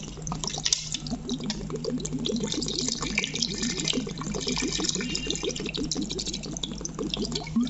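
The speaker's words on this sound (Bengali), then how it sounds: "হাফ লিটারের মতো পানি দিলাম" Water pours into a cooking pot of duck meat already mixed with oil and bay leaves, a steady close-up splashing and trickling stream that runs continuously for several seconds with no talk.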